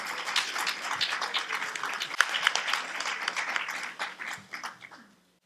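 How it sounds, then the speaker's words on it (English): A brunch crowd at a League of Women Voters event gives a round of applause that swells, holds, then tapers off unevenly before fading out. "Let's applaud for the first round."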